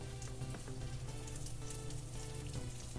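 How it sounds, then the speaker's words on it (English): Carrots sauté in melted unsalted butter in a pan, a continuous soft sizzle and crackle heard close up and fairly quiet, with no talking. "Just going to let it melt down. And to that I'm adding the carrots. Just going to saute them a little bit."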